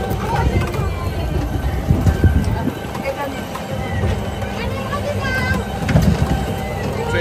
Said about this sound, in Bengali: ট্রেন জার্নি শুরু হয়েছে আমাদের